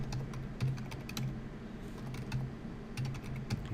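Fast, steady typing on a computer keyboard, a dense run of close key clicks with a few heavier thumps from the space bar, no voices.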